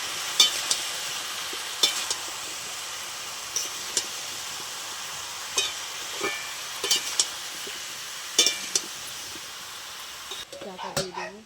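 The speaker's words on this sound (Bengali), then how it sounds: "ভালো করে নেড়ে নেব" Green chilli, turmeric and salt are stirred in a pan, with a steady fizzing sizzle and irregular spoon scrapes and knocks spaced a second or two apart, close by, with no talk.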